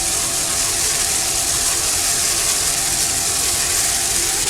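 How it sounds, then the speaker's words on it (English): An offshore racing powerboat with two 650 hp Blue Thunder inboard engines runs in a race. It gives a steady, dense roar with hissing spray and wind noise and no voices. "Just listen to that Blue Thunder inboards. Two of them, 650 horsepower."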